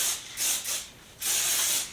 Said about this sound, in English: Taking my heat protectant, spraying my hair.